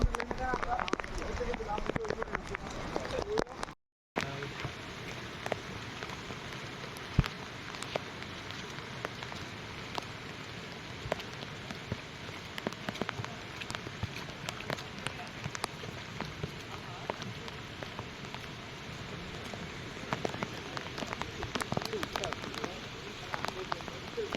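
Monsoon rain pattering on the stone steps of Girnar mountain, a continuous hiss of drops with scattered sharper ticks, close and fairly even apart from a brief gap near the start.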